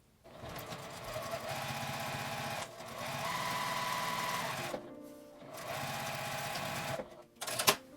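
A sewing machine stitches a seam on a fabric glasses case at a 1 cm seam allowance, a steady close whirring run that pauses briefly twice and starts again, with a small clunk at the end.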